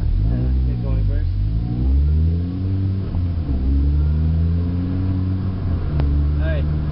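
A manual transmission car pulling away, its engine note rising and shifting in pitch as it builds speed, heard from inside the cabin with a person talking over it.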